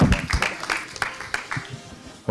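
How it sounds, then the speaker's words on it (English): Applause from a summit audience, a run of scattered claps repeating over a couple of seconds at moderate loudness. "A very big round of applause"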